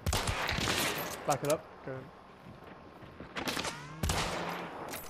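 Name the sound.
gunfire in a video game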